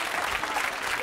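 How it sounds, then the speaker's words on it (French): A TV game-show studio audience applauds a guest named Ginette, a dense, steady wash of clapping filling the whole short moment without a break. "je voudrais que l'on applaudisse Ginette"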